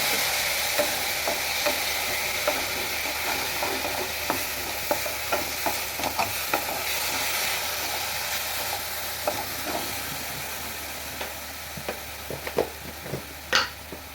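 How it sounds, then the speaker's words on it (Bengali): A spoon stirs milk with cardamom pods in a pot, giving a long run of irregular scrapes and light clinks over a soft bubbling hiss, close by, with a few louder knocks near the end and no voices. "দুটো এলাচ দেবো, দিয়ে ভালো করে আমি নেড়ে চেড়ে নেবো।"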